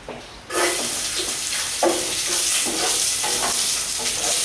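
Garlic hits a hot pan for pansit and bursts into a loud, steady sizzle after a brief quiet moment, with stirring scrapes recurring under the frying hiss.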